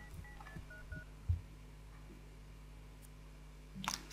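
Faint, sparse telephone dialing tones and clicks from a phone in The Sims 2, a few short beeps over a quiet hum, with a brighter burst near the end.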